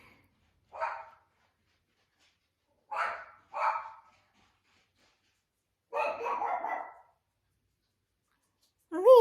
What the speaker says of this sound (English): Now Lena is barking throughout the house.